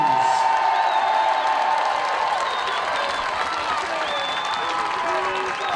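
Crowd applause with some cheering for the England goalkeeper before a penalty shootout between England and Spain at the 2015 Blind Football European Championships, steady and sustained, with a few whoops and chatter mixed in.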